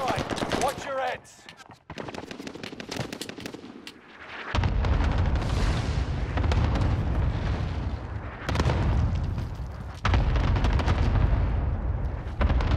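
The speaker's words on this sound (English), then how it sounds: "Enemy cluster strike. Watch your heads." A cluster strike in the video game Warzone on the Caldera map sets off a long run of loud explosions and booming blasts mixed with rattling gunfire, while players talk over the chaos.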